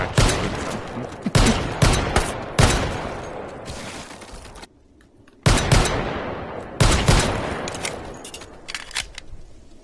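Bursts of gunfire from a modified Desert Eagle pistol in the H3VR virtual reality shooting game, loud rapid volleys in several clusters with a short quiet gap between them.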